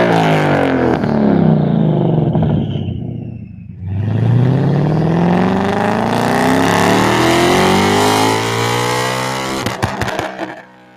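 A loud 1,000-horsepower twin-turbo Ford Mustang V8 revs hard with a deep harmonic roar, drops briefly, then climbs again through a long rising pull, ending with crackling pops.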